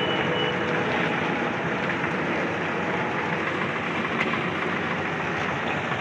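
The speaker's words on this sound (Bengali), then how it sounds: "এখন গেট পড়েছে, আপে বা ডাউনে কোনো ট্রেন যাচ্ছে।" A train passes the Kamrabad railway level crossing while the gate is down, a loud continuous rumble and roar that holds steady and close the whole time.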